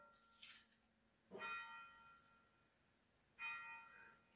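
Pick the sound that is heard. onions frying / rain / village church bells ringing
village church bells ringing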